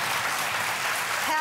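Applause from a German cooking-show studio audience, a steady close wash of clapping that runs the whole short moment with a voice briefly rising over it at the end.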